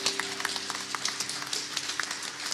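Audience at a contemporary Christmas carol service applauding, dense steady clapping from a crowd with rapid overlapping hand claps.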